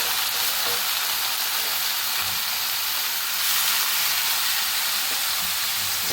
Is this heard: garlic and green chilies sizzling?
yes